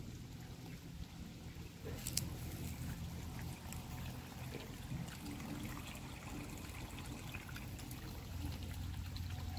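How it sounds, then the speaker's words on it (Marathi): Water overflows from a filled tank on a farm, a steady pouring and trickling splash that runs continuously at moderate level with no talk over it. "हे पण सगळं पाणी वाया चाललंय."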